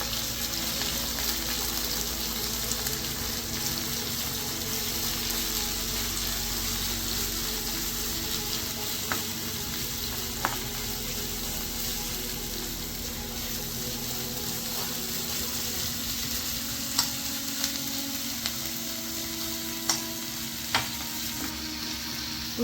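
Sliced vegetables sautéing and being stirred in a pan for a bread paneer roll, a steady low sizzle running throughout with occasional light clinks of the spoon against the pan and no talk.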